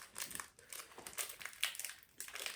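Crinkly foil wrapper of a Pokémon booster pack being handled and torn open up close, in quick irregular rustling bursts with brief pauses.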